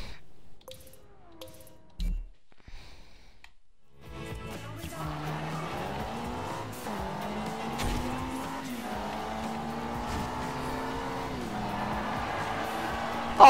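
Racing cars in the Forza Horizon 2 video game, a sustained engine drone rising and falling in pitch through gear changes, with tire noise underneath after a quiet opening with a few clicks.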